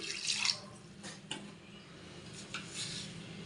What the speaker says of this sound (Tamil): கொஞ்சம் தேவையான அளவு தண்ணி சேர்த்துக்கலாம்